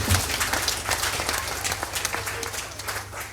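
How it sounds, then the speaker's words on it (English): A round of applause from the audience at a political party thanksgiving service in Carriacou, moderate clapping from a crowd that rises quickly and carries on briefly at a steady level. "please give yourselves a round of applause for being here"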